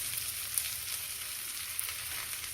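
Thin flatbread frying in oil on an iron griddle for an Indian fasting meal, giving a steady, quiet sizzle that stays even throughout with a couple of small pops.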